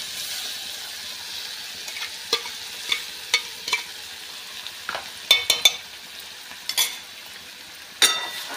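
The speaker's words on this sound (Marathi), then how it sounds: "2 मिनिटं मसाला आपल्याला चांगला परतून घ्यायचा आहे।" Turmeric and ground masala for chole sautéing in a pan, a soft, steady sizzle with a few sharper crackles and scraping stirs scattered through it, moderately close and with no talking.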